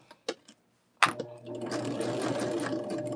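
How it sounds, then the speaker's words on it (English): A sewing machine stitches a quilt block seam for a Shooting Stars block, including a short back stitch. A few separate clicks come first, then the motor runs in a steady, close, continuous whir. "let's take it to the machine. And again, just a little back stitch goes a long way."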